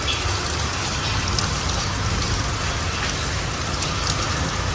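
Heavy monsoon-style rain pours down steadily on a village house courtyard, a dense, continuous hiss of drops drumming on surfaces close by, with no voices.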